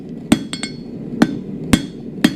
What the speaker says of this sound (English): I'm going to strike on two sides of the stock, because the anvil's on the other side each time.